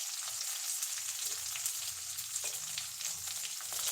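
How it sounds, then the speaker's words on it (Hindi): Onion frying in a pan for a home-cooked methi matar malai or pulao, giving a steady close sizzle with a few faint stirring scrapes and no talking. "इसमें जाएगा एक प्याज, अच्छे से थोड़ा भून जाएगा"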